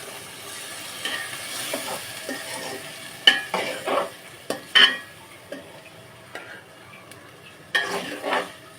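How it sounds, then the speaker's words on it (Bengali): Vegetables cooking with a spice paste of chili, turmeric, cumin-coriander powder, salt and ginger in a pan, with a soft steady sizzle, scattered spatula scrapes and a few sharp metallic clinks against the pan, close and without speech. "এগুলো দিয়ে আমি ভালো করে কষিয়ে নিব কিছুক্ষণ"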